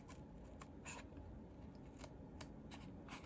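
Scissors snip through stiff chipboard in slow, evenly spaced crunchy cuts, faint and close over a low background rumble.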